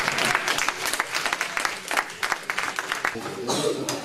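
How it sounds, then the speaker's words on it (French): Audience at a clown and magician's show clapping for a juggling act, a dense burst of applause with many hands, close and lively, thinning slightly toward the end. "Là des fois ils applaudissent les gens."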